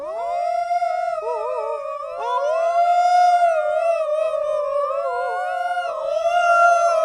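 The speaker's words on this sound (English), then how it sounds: "he heard the shouting sound of so many jackals" Jackals howl together in a long, loud, wavering chorus of overlapping rising and falling voices that carries on steadily with no pauses.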